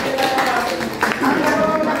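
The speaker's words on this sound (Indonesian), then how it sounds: "Tepuk tangan." A small group clapping hands at a classroom-style session, fairly close and loud, with uneven claps mixed with voices and room noise.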